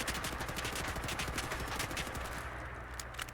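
Sustained automatic fire from an OTs-14 Groza bullpup rifle in Fallout 4, a dense, loud stream of rapid shots lasting a few seconds before easing off near the end, with no voices.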